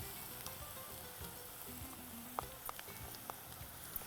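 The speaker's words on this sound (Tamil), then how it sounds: "இதில் இஞ்சி பூண்டு அரைவை" Ginger garlic paste sizzles among fried golden-brown onions in a pan, a faint steady crackle with a few small pops, quiet and close, with no talking.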